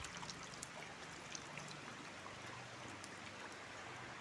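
Steady rain falls at night, a faint, even hiss with scattered soft drops and no voices.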